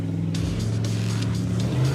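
A car revs its engine while climbing a steep, soft dirt slope off-road, a steady low rumble with pulsing surges of throttle, close and fairly loud.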